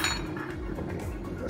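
A knife, spoon and fork clink together in a home kitchen while steak is being prepared, a short burst of light metallic chinks and rattles, close and fairly loud.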